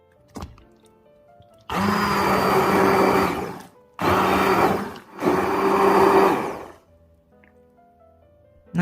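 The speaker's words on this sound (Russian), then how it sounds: "Ягоды измельчите блендером или протрите через сито." A blender crushing berries whirs loudly in three bursts separated by short pauses, grinding at a steady high speed.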